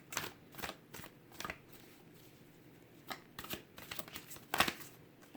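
A deck of tarot cards is shuffled by hand close up, giving a series of soft riffling and tapping bursts in an irregular rhythm, fairly quiet and with no talk over it.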